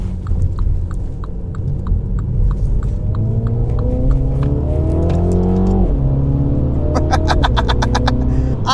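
A MINI Cooper accelerates hard along a highway, its engine note climbing through the gears with a steady drone of road and tyre rumble, loud and close from inside the car, with no talking.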